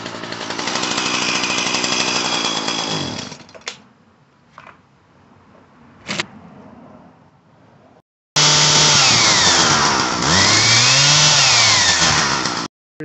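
A small two-stroke engine on a Husqvarna 122HD45 hedge trimmer, just after a fuel line repair, buzzes loudly at high revs, drops to a ragged idle with brief blips, then cuts out and restarts at a high, wavering whine.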